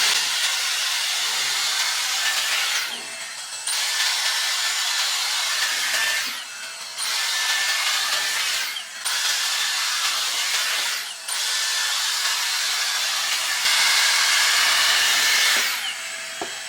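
A Dyson Airstrait hair straightener blows a loud, steady, close-up rush of air, broken by several brief dips and pauses as it is moved or switched through the hair.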